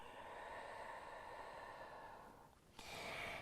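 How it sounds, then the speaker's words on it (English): Slow yogic breathing through the nose during a yoga and pilates session: one long, soft, close inhale gives way to a sudden, slightly stronger exhale near the end, in a quiet room. "come to a breath flowing in and out of the nose"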